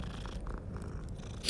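A cat purrs while being petted in the video game Hogwarts Legacy, a soft, steady low rumble that continues alone and close, ending with a brief faint rustle.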